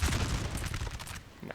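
Musket volleys from line infantry in Empire Total War crackle and rumble in a dense burst of overlapping shots at moderate distance, fading out after about a second.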